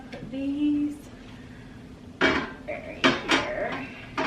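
Small ceramic pots from a dollar-spot display being set down on farmhouse-style open shelves, giving a few sharp ceramic clinks and knocks in the second half after a quiet start.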